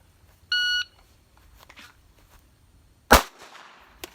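A single sharp pistol shot cracks out loud and close during a home-defense shooting drill, preceded by a brief electronic beep, with quiet rustling before and after.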